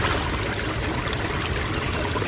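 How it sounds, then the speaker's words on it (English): A 45-foot-long backyard limestone waterfall pours in a steady, full rush of water, constant and moderately loud with no voices over it. "You can hear the waterfall from in there when the windows are open"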